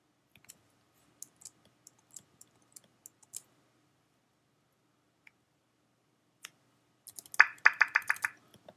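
Computer mouse clicks during software editing, a sparse run of small, crisp clicks spaced over several seconds in near silence, then a quicker burst of clicks toward the end.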